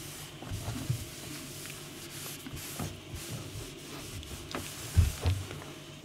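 A dry cloth rubs across greasy kitchen cabinets in soft, steady strokes, with a few louder scuffs toward the end, close and alone with no talk.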